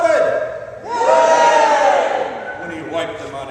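Crowd at a baseball game cheering and roaring for Casey at the bat, a loud swelling roar of many voices that rises, holds for a couple of seconds, then fades.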